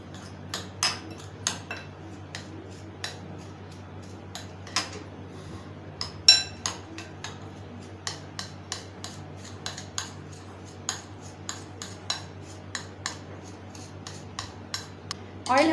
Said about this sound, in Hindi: अब हम इसको अच्छी तरीके से मिक्स करेंगे।